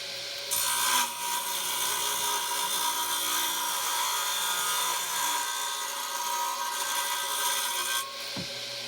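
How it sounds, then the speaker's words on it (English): A 1940s DeWalt radial arm saw, a Mito-Miter Box, cuts about half an inch off a plywood board, its steady whining roar loud and continuous for several seconds before the blade winds down near the end. "There we have our cut on plywood."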